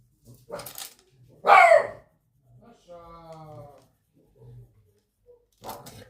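Ruby, a pet dog reacting to another dog seen through a window, gives a few scattered barks indoors, including one loud close bark, mixed with brief voice sounds.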